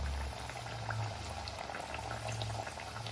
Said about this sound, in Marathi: स्लो फ्लेमवरच आपली ही कचोरी जी आहे तळून घ्यायची आहे